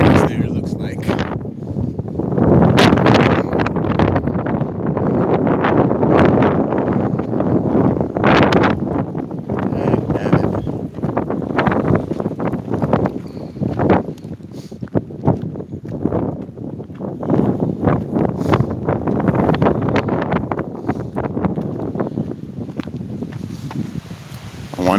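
Gusty outdoor wind buffets the microphone in continuous rough rumbling bursts that swell and ease unevenly, with a voice talking faintly underneath.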